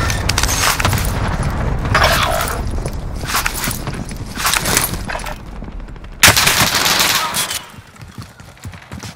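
Dense gunfire, including sniper shots, rattles through a Call of Duty: Modern Warfare match, loud and close with bursts, booms and a sharp crack near the middle.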